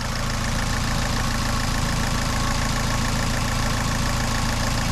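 Ford Focus 1.6 16v Clipper engine idling, a steady even drone with a low repetitive pulse, recorded close and loud with no voices.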